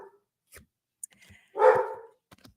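Dogs barking indoors: a single loud, close bark stands out after a few faint scattered sounds and small noises, with short quiet stretches around it.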